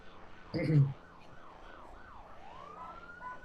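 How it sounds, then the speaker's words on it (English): A police car siren wails as the vehicle drives past outside, its rising and falling tone sweeping faintly in the distance after a brief loud thump, with no talking over it. "There's the police car that drove by."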